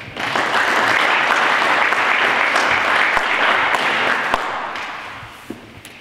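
A room full of people at a farewell ceremony for local politicians applauding steadily for several seconds, the dense clapping gradually thinning out toward the end.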